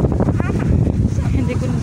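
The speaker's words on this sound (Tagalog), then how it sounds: "Ayan, ang hangin masyado dito." Strong wind buffeting the microphone in loud, rumbling gusts outdoors in Hong Kong, with a person talking underneath and trees moving.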